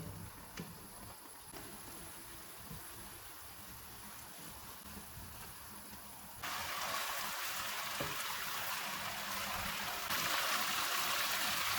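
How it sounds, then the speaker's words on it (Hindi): Chicken simmering in a pan on a stove over medium-high heat while the water cooks off, giving a steady wet bubbling and sizzle that grows louder partway through, with no talk. "अब हम चूल्हे को मीडियम टू हाई करेंगे और पानी खुश्क होने तक इसको पकाएंगे।"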